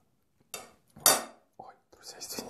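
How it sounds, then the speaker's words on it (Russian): A fork slips on a plate while someone eats fried potatoes with sausage, giving a few sharp close metallic clinks and scrapes separated by short pauses, loud against near silence. "Вилка просто соскользнула."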